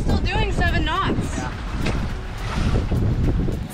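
Strong wind at about 19 knots buffeting a sailboat under way at sea, a steady close roar of wind noise and water beneath, with a person talking over it at the start.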